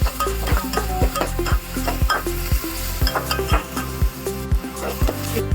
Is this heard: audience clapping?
no